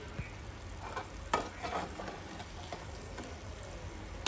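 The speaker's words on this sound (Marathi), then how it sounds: "माझी मम्मा अनारसे फ्राय करत आहे" Anarse sweets fry in hot oil with a steady low crackle and hiss, marked by a few sharper pops and faint stirring clinks.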